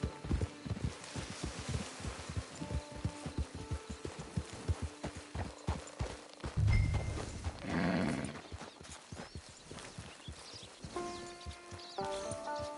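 Steady clip-clop of horse hooves walking in Red Dead Redemption 2 Online, with a brief snort and a few quiet game chimes near the end; no talking.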